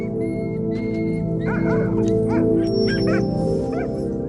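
Greenland sled dogs in an Arctic village bark, yip and whimper in a cluster of short, overlapping cries over a low droning background, with someone speaking steadily over them.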